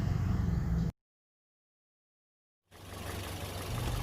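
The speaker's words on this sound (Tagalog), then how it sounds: "as you can see, umaandar ang makina" A Toyota Vios engine idling right after its throttle body was cleaned and the battery reconnected, a steady low hum close by, cut off by a stretch of silence and then returning.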